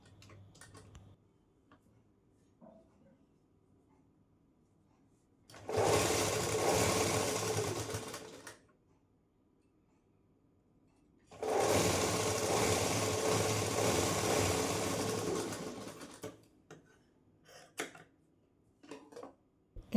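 A sewing machine runs two sustained bursts of rapid stitching through a double-folded blouse piece, each lasting several seconds with quiet pauses and small handling clicks between.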